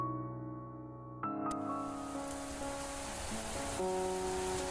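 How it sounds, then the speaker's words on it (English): Pouring rain from a visual novel game's sound effects: a steady, close wash of rain hiss sets in after a brief stretch of held musical tones, with the music continuing softly beneath the downpour. "Surrounded by darkness and the pouring rain"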